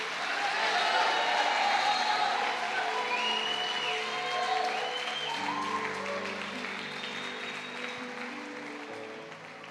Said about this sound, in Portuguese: dê um aplauso ao Senhor e dê um grito de júbilo